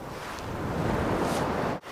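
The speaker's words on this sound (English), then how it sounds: "but it's a bit rough here in the valley wind" Strong valley wind near Zermatt buffets the microphone, a continuous loud rushing roar that swells and fades briefly before resuming.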